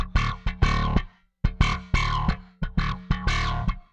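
A Rickenbacker bass plays punchy plucked notes through auto wah blended with a clean SM-900 signal, in a rhythmic run of short and sustained notes with one brief pause.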